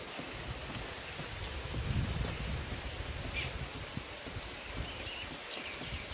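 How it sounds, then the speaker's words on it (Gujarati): Light drizzle patters softly around a tractor parked in farm fields, a faint, even wash of rain with a low rumble swelling briefly early on. "હાલ તો થોડો ઝરમર વરસાદ ચાલુ જ છે"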